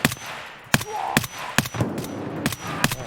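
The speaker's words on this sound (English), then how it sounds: "He just fired like 5 shotgun blasts at you super fast" Gunfire in the video game Escape From Tarkov, seven or eight sharp, loud shots spaced roughly every half second in an even rhythm, alone without talk.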